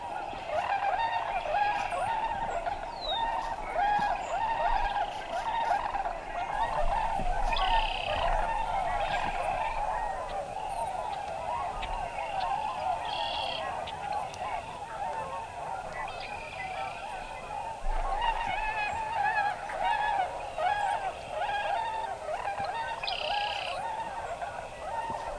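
Trumpeter and tundra swans call from a Wisconsin marsh, a dense, continuous chorus of honking, bugling voices with other birds and frogs mixed in, steady and moderately loud throughout.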